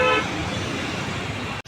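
Heavy Hyderabad road traffic roars densely and close by, with a short car horn toot at the very start over the continuous rumble of engines and passing vehicles, cutting off abruptly at the end.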